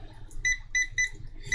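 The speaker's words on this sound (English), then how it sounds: "so that when I touch the board anywhere, right, I get a beep" Short electronic beeps sound while a probe touches points on a Quansheng UV-K5 radio circuit board, four quick tones at an irregular rhythm, close and moderately loud with no talk.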